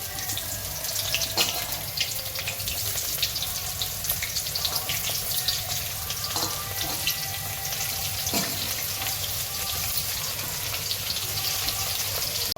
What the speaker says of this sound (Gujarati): તેલ થઈ ગયું છે, આપણે આ તરી લઈશું